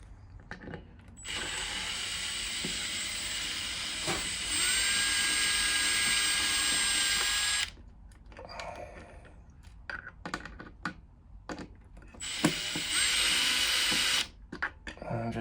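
Power drill or electric screwdriver backing out screws to reach the battery terminals on a Solis inverter battery setup, two long steady high whines with short pauses and small handling clicks and clatter between them.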